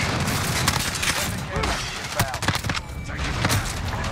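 CR-56 AMAX assault rifle fire in Modern Warfare on the Shipment map, dense overlapping gunfire and booms in a busy match, with a player talking over the shooting.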